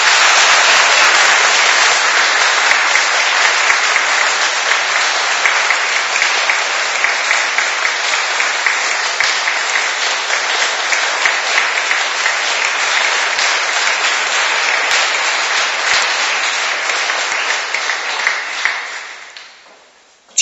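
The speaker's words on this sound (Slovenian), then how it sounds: "Dajmo Jezusu in čudovit aplavz" Prolonged applause from a church congregation, loud and dense clapping sustained for about twenty seconds before fading out at the end.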